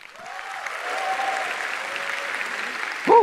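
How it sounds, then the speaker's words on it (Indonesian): A live audience at an Indonesian talk event claps steadily, applause swelling in and holding at a moderate level before a brief louder burst at the end. "Tepuk tangan dong."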